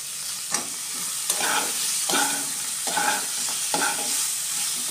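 Tomato and chopped ginger frying in a pan while being stirred, a steady close sizzle with four or five scraping stirs at a regular pace, no talking.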